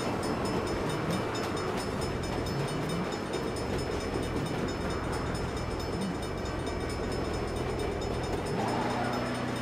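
A train rumbles past in the Saints Row video game, a steady dense roar with rattling noise filling the whole stretch, and a low horn-like tone emerging near the end.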